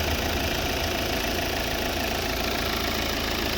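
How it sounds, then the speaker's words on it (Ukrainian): A 2014 Volvo V60 with the 2.0 D4 diesel engine and automatic gearbox idles steadily, a close, even diesel rumble with a light knock and no voices. "В общем, ось робота двигуна."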